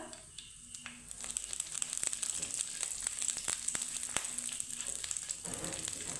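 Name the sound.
curry leaves frying in tempering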